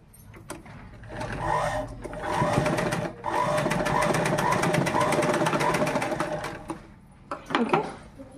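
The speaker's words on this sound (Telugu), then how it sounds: "నార్మల్గా దీన్ని స్టిచ్ చేసేస్తా" A sewing machine stitches a uniform shirt in a fast, loud, close mechanical rattle lasting several seconds. It starts and stops briefly, with handling clicks and rustles at the ends.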